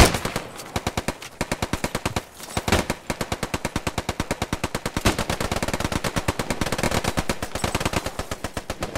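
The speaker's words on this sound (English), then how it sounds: "You can hear some firing off in the distance." Sustained automatic gunfire in the shooter game Post Scriptum, rapid bursts crackling nearly nonstop, fairly steady in volume with only brief pauses.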